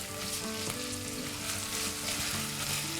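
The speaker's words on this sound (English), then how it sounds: "And we're going to saute this." Salted onions sauteing in a pan for a chicken pulao masala, giving a steady, dense sizzle with faint stirring scrapes throughout, with a kitchen chimney fan running, and no talking.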